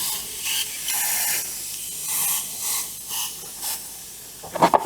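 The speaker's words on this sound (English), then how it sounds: "Thank you, compressor." An air compressor hisses in repeated short spray bursts while a miniature asteroid base is spray-painted, each hiss about half a second long with brief pauses between, ending in a cluster of sharper knocks.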